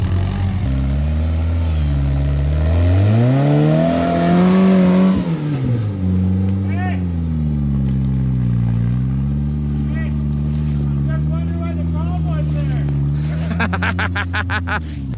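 Toyota rock buggy engine laboring up a rocky off-road trail, loud and close, its pitch rising into a strained rev then settling to a steady lower drone, with people talking over it.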